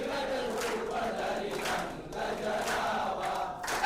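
A crowd of Bajrang Dal protesters shouting at a Valentine's Day protest, a steady roar of many raised voices and chants heard from a middle distance.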